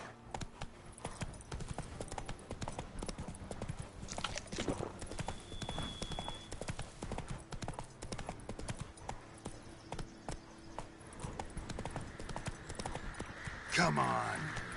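Hooves of the horse Roach in a video game drum in a steady galloping rhythm throughout, fairly quiet, with a brief whinny-like burst near the end, under occasional spoken words.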